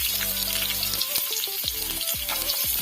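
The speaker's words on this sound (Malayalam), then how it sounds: "ഇനി ഇതിലേക്ക് നമുക്ക് അരിഞ്ഞു വെച്ചിരിക്കുന്ന വെളുത്തുള്ളി ഇട്ട് കൊടുക്കാം." Chopped garlic frying in hot coconut oil for an irumban puli pickle, a steady loud close sizzle with faint stirring, running under soft background music.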